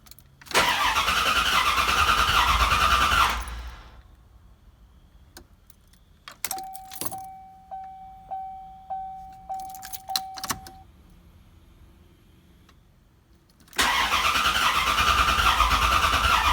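Corvette C4 sits idling loudly, then cuts off; a run of rhythmic chimes and clicks follows as the starter is tried again, before the engine catches and runs at a steady loud idle.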